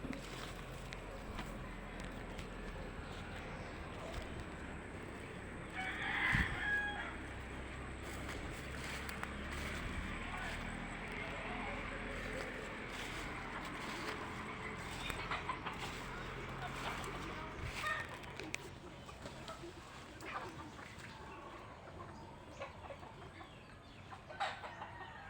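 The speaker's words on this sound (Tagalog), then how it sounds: "Ni daghang manok guys." Chickens cluck in the background, with a brief rooster-like call early on, under a steady outdoor hum and occasional voices.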